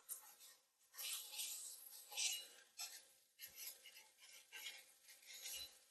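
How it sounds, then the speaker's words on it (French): A metal spatula scrapes chapli kebab off a hot baking tray, giving repeated rough rasping strokes at close range, with short gaps between passes and no talking. "Faut vraiment gratter."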